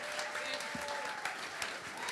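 A jazz concert crowd claps steadily, a dense, continuous patter of applause from many hands throughout.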